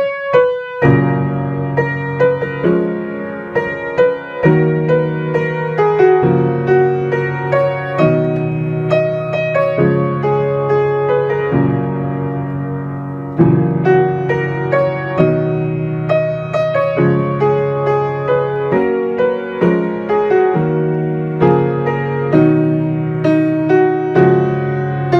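Solo piano plays the chorus of a ballad, a steady flowing stream of arpeggiated chords and melody notes, loud and close with no talking.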